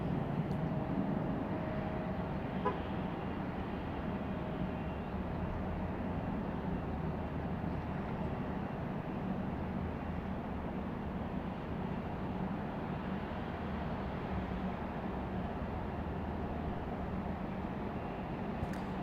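A Boeing 787 Dreamliner departing Raleigh Durham airport gives a continuous low, distant engine rumble that stays at a steady level throughout, with no talking.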